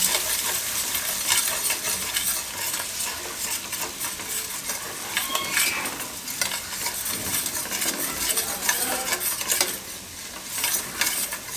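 Flour stirred gradually into a pasta sauce on low heat, a continuous close sizzle with scraping and light metallic clinks of a spoon against the pan, no voices.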